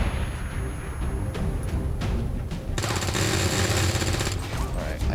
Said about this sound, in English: Flashbang. I'm about to flash him and about 3 other people.